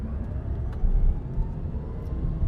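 A Tesla Cybertruck Cyberbeast launches hard in beast mode, a steady, loud low rumble of tires and road noise that holds with little change for the whole stretch.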